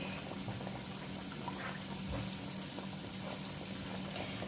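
Samosas deep-frying in hot oil in a small kadhai give off a continuous soft bubbling and sizzling, steady and close, with no talking.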